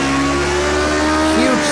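A Lotus 49 race car slides in a racing video game, its engine droning loud and close with a wavering squeal of tires rising and bending as the car loses grip.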